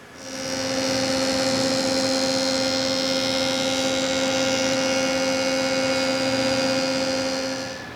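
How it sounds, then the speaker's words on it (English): A jointer runs an oak board through once to clean up mill marks, giving a loud, steady motor whine and a broad cutting roar that hold evenly for several seconds before trailing off. "We need to clean up the mill marks on the joiner by running it through one time."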